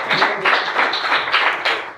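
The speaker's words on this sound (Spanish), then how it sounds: "Un aplauso para Silvia" Audience applause after a talk, a short burst of dense clapping from a crowd, loud and close, pulsing steadily before it fades.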